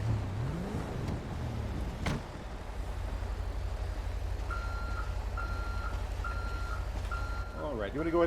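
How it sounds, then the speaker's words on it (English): Tow truck backing up at a campsite, its reversing alarm repeating several steady beeps over a low engine rumble, with people talking nearby. "Just make sure that you're not in the way of that truck."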